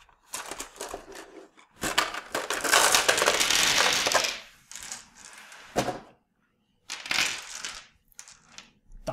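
A pile of game dice from the Vegas board game being scooped and shaken, giving several loud clattering rattles that come in bursts of a second or two, with short silent gaps between them.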